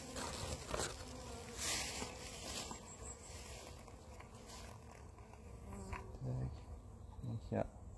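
Honeybees hum at a very small hive during an inspection for varroa treatment. A steady, close, fairly soft drone runs throughout, with faint handling noises and occasional quiet speech underneath.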